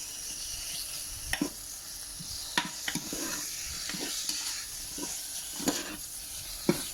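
Food is stirred and mixed in a pot for Japanese-style black-soup shabu, with steady faint sizzling and occasional sharp utensil scrapes and clinks, no voices.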